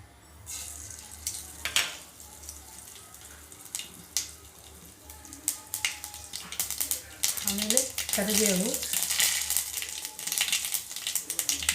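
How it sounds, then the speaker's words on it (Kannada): Mustard seeds and cumin hitting hot oil, a crackling, popping sizzle that builds and grows busier toward the end, with a brief voice-like tone partway through and sharp clicks scattered throughout. "ಎಣ್ಣೆ ಕಾದ ನಂತರ ನೋಡಿ ಸಾಸಿವೆ ಜೀರಿಗೆ"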